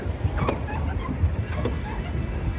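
A pedal boat moves across a lake in Ooty, with a steady close wash of water and wind noise and faint voices mixed in.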